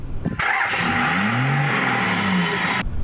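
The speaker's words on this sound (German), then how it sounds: "Ich höre deinen Auspuff in meinem Headset." A Yamaha R6 motorcycle engine rumbles loudly nearby, heard through a headset, its exhaust note rising and falling as it revs steadily for a few seconds.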